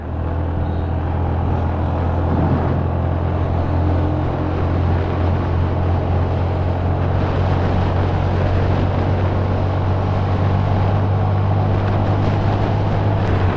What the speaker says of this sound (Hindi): अब आप देखोगे हमें हीरो की डेस्टिनी 125 प्लैटिनम चलाते हुए